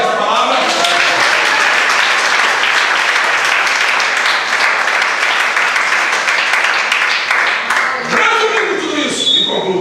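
Sustained applause from a church congregation during a Sunday morning service, dense and loud throughout, with a few shouts and voices rising over the clapping near the end.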